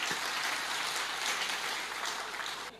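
Audience applause at an Indonesian religious talk, a dense, even wash of clapping at moderate distance that stops abruptly near the end.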